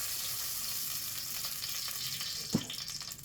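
Beef pieces frying in soybean oil for a Chinese-style beef sizzling dish, a steady hiss of sizzling throughout with one brief clack of a utensil against the pan near the end.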